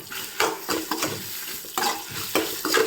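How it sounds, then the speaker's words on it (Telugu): Chopped ginger fried in a pan with fenugreek seeds and asafoetida for ginger chutney, a close, continuous sizzle broken by repeated scraping stirs of a spoon, with no talking. "అల్లం కూడా కొంచెం వేపుకుంటే బాగుంటుంది."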